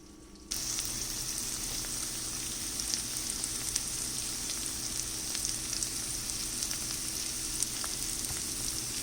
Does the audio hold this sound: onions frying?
yes